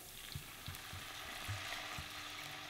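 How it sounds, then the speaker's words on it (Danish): About a decilitre of white wine goes into a hot pan of caramelised chorizo, bringing a steady close sizzle and hiss with soft, regular stirring knocks beneath it. "Så er det altså tid til at give den lidt hvidvin"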